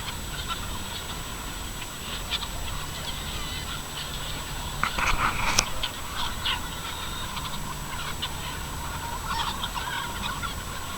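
A big free-range flock of about 5,000 chickens on an organic farm makes a steady, dense din of clucking and squawking that carries on without a break, with a few louder calls standing out from the crowd.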